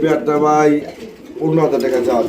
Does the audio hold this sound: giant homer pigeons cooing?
yes